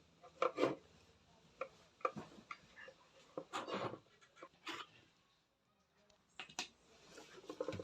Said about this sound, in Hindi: इस मोटर के 4 स्क्रू निकाल रहे हैं